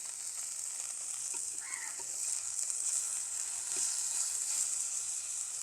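Chicken fries in a pan with a little cooking oil, giving a steady, moderately loud bright sizzle with faint crackles throughout and no talk.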